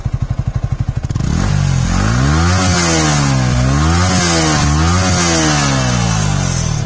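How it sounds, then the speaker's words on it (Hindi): Exhaust of a 2021 Yamaha R15 V3 BS6 motorcycle: the engine starts with a few rough pulses, then settles into a loud, close idle that climbs and falls through several quick throttle blips. "अब देखिए एक नॉर्मल मैं आपको रेगुलर एग्जॉस्ट नॉइज सुना रहा हूँ"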